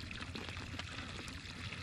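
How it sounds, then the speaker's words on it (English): A river flows steadily nearby during a fall smallmouth fishing trip, a faint but constant hiss of running water with no break. "Don't mind the sound of the running water, folks."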